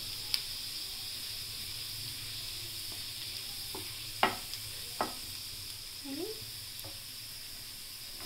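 Onions browning in a pan give a faint continuous sizzle and hiss, with a few sharp taps and scrapes of stirring scattered across it, quiet and close, with no voices.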